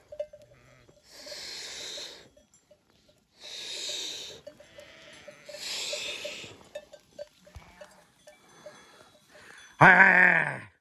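A flock of sheep being herded along on wet grass in the Nurhak highlands gives several bursts of bleating, with a louder, closer bleat near the end.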